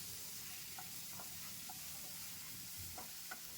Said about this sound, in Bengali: টমেটো কুচিটা দিয়ে আর কাঁচা লঙ্কা চেরা 2টো দিয়ে কিছুক্ষণ